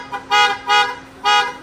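A car horn driven through an aftermarket horn module blares in three loud bursts in quick succession, with short gaps between them and no talking.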